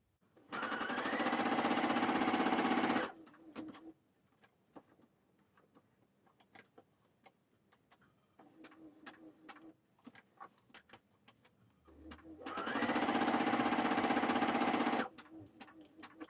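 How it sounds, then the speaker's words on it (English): Sewing machine stitching a cuff placket on a button-up shirt sleeve: a loud, fast, even whir runs for about three seconds, quiet handling clicks follow, then a second burst of stitching of similar length. "So let's sew this and slash the placket"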